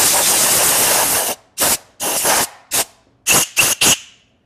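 Compressed air blasting metal chips out of a freshly hand-tapped hole in a machine vise part under repair: one long hiss followed by six short, loud bursts, close up with no talking.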